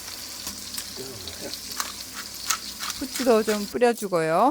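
Butter is stirred into steamed mustard greens in a pot, giving a soft sizzle and scraping. Someone speaks briefly over the cooking sounds toward the end.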